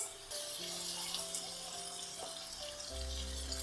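A glass of water pours into a pan of balti chicken with a steady splashing rush, faint and close, over a low sizzle, with no talking.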